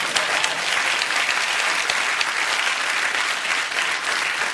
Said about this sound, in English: You can clap, that was beautiful.